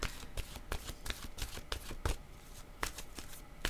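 Oracle cards riffled and shuffled by hand in a series of soft, crisp flutters and taps, close and fairly quiet, with no talking.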